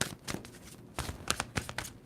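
Tarot cards being shuffled, a series of short papery riffles and flicks in uneven bursts, close and moderately quiet with no voice.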